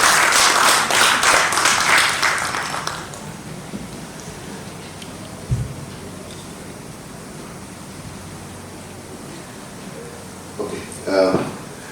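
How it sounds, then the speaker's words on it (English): An audience at a Commonwealth student and youth welfare launch event gives a round of applause, dense clapping that fades after a few seconds into quiet room noise with faint sounds. "I would request everybody for a round of applause for both for His Excellency as well as Yaaseen."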